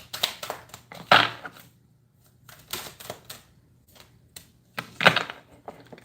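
Tarot cards being shuffled by hand during a weekly reading, giving three bursts of crisp riffling and flicking interspersed with lighter shuffling taps and brief pauses, close and clear with no talking.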